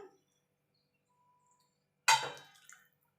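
Water poured into a pan of drumstick and potato, a single brief splashing pour after near silence, close and fairly loud, fading quickly.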